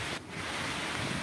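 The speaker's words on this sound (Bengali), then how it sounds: "এই দেখো ঝড় বৃষ্টি" A rain and wind storm in West Bengal produces a dense, steady roar of heavy rain and gusting wind, loud and continuous, with no voices.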